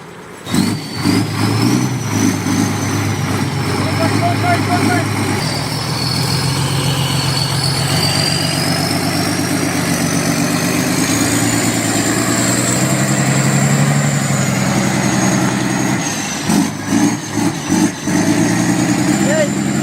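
A heavy truck engine rumbles steadily while the vehicle drives through a strong river current, the low drone running loud and continuous for the whole stretch beneath a voice and music.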